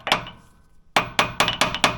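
A hammer strikes the pitman arm of a Jeep JK during drag link work: one sharp, ringing metallic hit, a short pause, then five quick, evenly spaced blows, loud and close.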